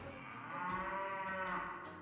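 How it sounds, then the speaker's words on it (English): A cow in the video game Miitopia lets out a single drawn-out moo lasting about two seconds, fairly soft and clear with no talking over it. "Oh, that was a moo."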